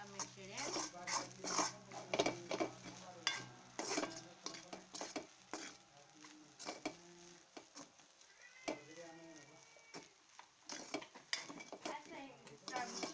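Food being stirred in a pan, with scraping and clinking of a utensil against metal in uneven bursts, fairly quiet, with a person talking intermittently over it.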